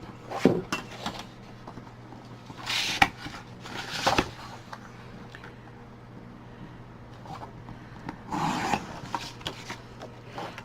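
Scissors cutting pieces of file folder card for a mini journal, heard as a few short, crisp rasping snips spaced out across a quiet background.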